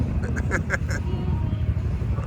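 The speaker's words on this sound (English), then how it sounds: "Oh, we have a duck in the way." A duck standing on an amusement park ride track at Cedar Point quacks several times in a quick burst, nearby and fairly loud, over steady outdoor rumble and wind on a cold day.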